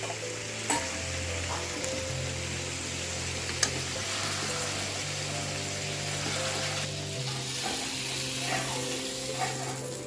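Continuous sizzle of spices frying in a pan, with a low steady hum underneath and an occasional clack, close and even throughout, no speech.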